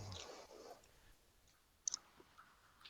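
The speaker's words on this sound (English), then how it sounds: "I'm typing a quick recap for you so you can catch up with where we're at." Typing on a computer keyboard in a quiet room, a few faint soft clicks followed by a brief sharp cluster of keystrokes, with no talk.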